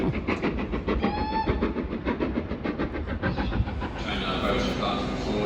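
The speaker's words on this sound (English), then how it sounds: "at least they have a different diesel locomotive at the back for a change" A train hauled by a steam locomotive with a diesel locomotive at the rear passes through Exeter St Davids station, a steady rumble with rhythmic clatter from the wheels and a brief high whistle-like tone early on. A voice speaks over it.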